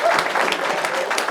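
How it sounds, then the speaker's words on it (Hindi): An audience claps for a participant who answered a quiz question, a brief burst of loud, dense applause with scattered sharper hand claps standing out. "एक बार प्राची के लिए ताली बजाओ"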